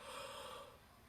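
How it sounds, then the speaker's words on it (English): A single long breathy yawn, close and soft, with a hissing exhale that fades out toward the end. "Excuse me, yawning."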